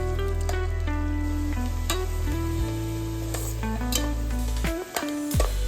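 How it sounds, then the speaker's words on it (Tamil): Chopped onions fry on high flame in a pot with whole spices for chicken keema biryani, giving a steady, loud sizzle with occasional stirring, under continuous music. "வெட்டி வச்சுருக்க வெங்காயத்தை போட்டு நல்லா பொன்னிறமாக ஆகிற வரைக்கும் ஹை ஃப்ளேமில் வச்சு நல்லா வதக்கிக்கோங்க"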